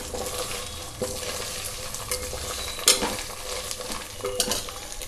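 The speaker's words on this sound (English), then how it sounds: "We have to fry the ginger garlic paste for 1 minute until the raw smell goes off." Ginger garlic paste fries and sizzles in a pan while being stirred for a one-pot stuffed eggplant curry, a steady close hiss with scraping spoon strokes and a sharper clatter near the middle, with no talking.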